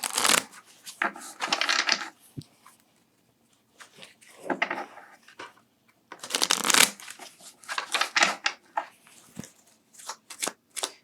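Tarot cards being shuffled in repeated crisp riffling bursts with short pauses between, close and clear with no talking.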